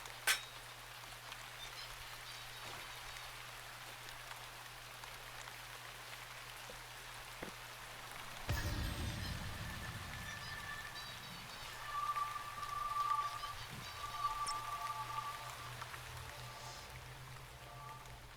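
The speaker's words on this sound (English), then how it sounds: "Thank heavens the rain has stopped." Steady rain falling in the fantasy game Shroud of the Avatar, a soft continuous patter with a low hum, joined midway by a brighter surge and faint chirps or tones.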